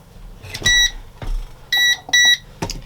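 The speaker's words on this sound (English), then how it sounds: "whenever it beeps, it'll be ready to take out" A heat press timer signals the end of pressing a sublimation shirt with a series of loud, close electronic beeps in short bursts, several in quick succession, with clicks and handling noise between them.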